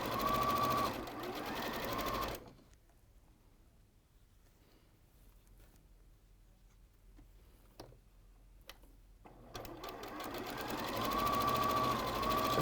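A sewing machine stitches a chain stitch in short bursts, a loud steady run at the start and again at the end with a quiet gap between, broken only by a few faint clicks.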